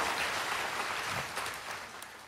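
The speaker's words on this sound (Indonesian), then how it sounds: "Berikan tepuk tangan buat Allah gitu" Church congregation applauding for God during a Sunday service, a soft, steady hiss of many hands clapping at a distance, fairly even throughout with no talk.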